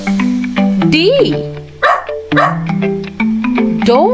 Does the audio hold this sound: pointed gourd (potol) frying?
no